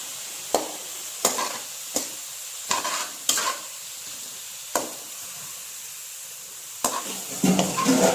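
Onions with ginger garlic paste sautéing in a pan for a chicken curry, with a steady close sizzle broken by sharp spoon scrapes and clanks against the pan at irregular intervals.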